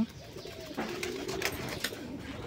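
Soft, fairly distant cooing from kept pigeons, low murmuring calls over a quiet background with no talking.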